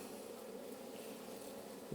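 Honey bees buzzing around a hive during early-season splitting, a steady, continuous drone heard close and fairly quiet, with a slight swell at the very end.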